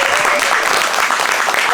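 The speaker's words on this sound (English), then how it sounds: "Round of applause for our players." Loud, dense applause from an improv theatre audience for the players, steady clapping filling the space for the whole moment with no pause.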